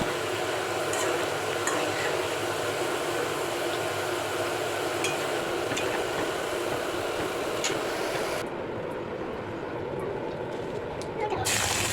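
Bitter gourd pieces deep frying in oil, a steady dense sizzle running throughout at close range with a voice speaking over it.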